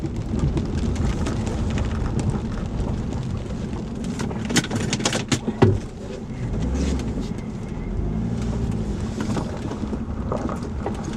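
A Jaguar XJ6 with spongy brakes and a worn front bushing drives along, its engine droning low and rising and falling as it shifts up and down through the gears, with a few sharp knocks and rattles midway.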